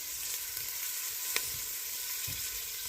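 An onion sizzles steadily in a hot pan, cooking down toward translucent for homemade tomato soup, with a soft continuous hiss and a couple of faint stirring taps, no voices.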